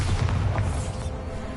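Bombarda explosion spell in Hogwarts Legacy: a short, heavy boom with deep low rumble, loud and close, dying away within about a second and a half.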